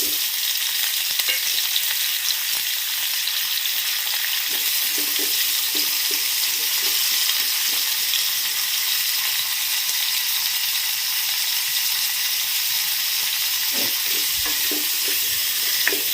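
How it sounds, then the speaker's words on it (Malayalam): Chopped small onions sizzle and fry in coconut oil, a steady loud crackling hiss with occasional soft stirring scrapes and taps throughout, no voices. "ഈ ചെറിയ ഉള്ളി ഇത് മുറിച്ച്, അത് കഴുകിയിട്ട് മുറിച്ചതാണ്. ഇത് നമുക്ക് ഈ വെളിച്ചെണ്ണയിലിട്ടിട്ടൊന്ന് വറുത്തെടുക്കാം."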